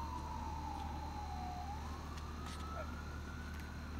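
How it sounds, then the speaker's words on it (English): A faint, distant siren wails slowly up and down over a low background hum. "We've got sirens going"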